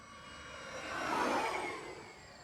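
A Horizon Hobby Viper 90mm RC jet comes in to land on a driveway runway with flaps down, its ducted-fan whine faint and distant, briefly swelling as it passes and then fading.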